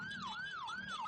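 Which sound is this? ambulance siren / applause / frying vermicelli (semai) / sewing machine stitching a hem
ambulance siren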